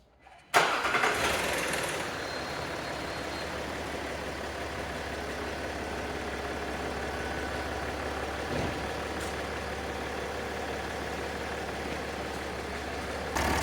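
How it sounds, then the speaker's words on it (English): A Land Rover Discovery with a loud rattle fault cranks and fires, a brief clacking, tapping clatter at start-up, then settles into a steady, close, even idle hum that runs on alone. "there was a little bit of a clacking, tapping sound when it first started up"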